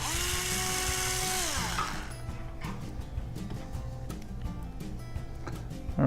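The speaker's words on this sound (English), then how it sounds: "Then we're going to use a 16th inch bit to get us a pilot hole into the wood." A power drill fitted with a 1/16 inch bit bores a pilot hole into wood, first a high whining spin-up for about two seconds, then lower, uneven grinding with small clicks and knocks as it bites in.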